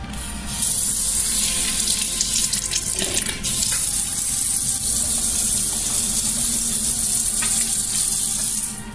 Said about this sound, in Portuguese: Vou no banheiro colocar água, sei lá.